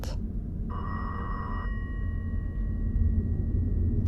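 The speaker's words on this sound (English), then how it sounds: "your cell phone doesn't ring like that" A telephone-like ring sounds as a steady tonal trill for about a second, then a fainter lingering tone continues over a heavy low rumble, moderately quiet and alone.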